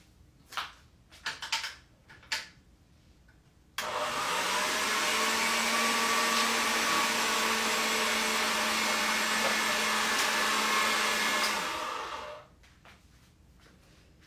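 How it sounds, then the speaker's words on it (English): A pasta machine rolls a sheet of polymer clay flat, a steady mechanical whir running unbroken for about eight seconds after a few light handling knocks, then stopping. "So let me put this through my pasta machine."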